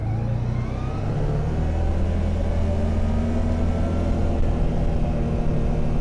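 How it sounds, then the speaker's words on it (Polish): CF Moto Z-Force 1000cc EFI quad picks up speed on a test ride, its engine rumbling steadily and loud throughout, with rising engine tones as it accelerates and no talk over it. "Pojazd dosyć szybko rozpędza się do 60 na godzinę."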